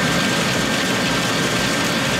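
Farm machine engine from Farming Simulator 19 left running, a steady low diesel rumble idling continuously at a constant level.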